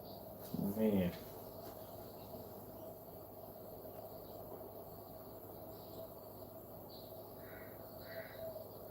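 A big bird calls outdoors with a short, loud, harsh caw at close range, followed by faint distant chirps over a steady insect-like hum.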